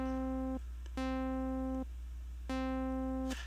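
Synth notes whose filter cutoff is swept by an envelope: three sustained tones, each opening bright at the attack and then mellowing as the cutoff falls back, with short gaps between them and no voice.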